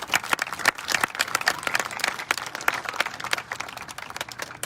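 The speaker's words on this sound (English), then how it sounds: "we also applaud you." Audience applause at a high school graduation ceremony, steady clapping from a crowd filling the space, moderately loud and continuous with no speech over it.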